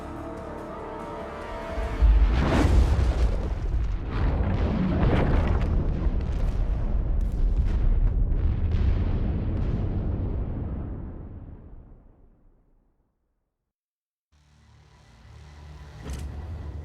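Weapons fire and explosions in The Expanse video game, a loud sustained roaring blast that swells, rumbles for several seconds, fades to silence, then returns as a fainter boom.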